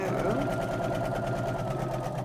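A sewing machine stitches fabric for a pop-up stitch project in a brief, steady, close mechanical whir with rapid rhythmic needle pulses, running alone without talk.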